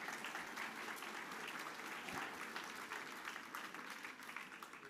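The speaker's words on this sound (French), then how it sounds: "je vous demande de l'applaudir" A conference audience in a debate hall applauds as a diplomat speaker is welcomed, a steady wash of clapping at moderate distance, fairly quiet overall.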